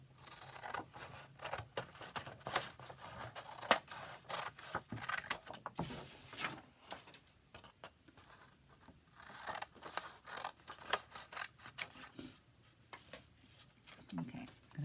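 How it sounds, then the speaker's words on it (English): Scissors cut out a piece of paper in an art lesson, with repeated close, crisp snips and rustling of paper under a person talking. "then I'm going to cut my paper out"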